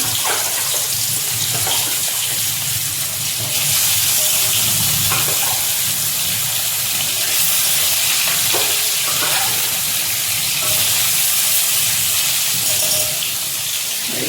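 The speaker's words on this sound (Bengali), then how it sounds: "মাছটা ভেজে নিই" Fish frying in hot oil gives a continuous loud sizzle and crackle that holds steady throughout, with no talking.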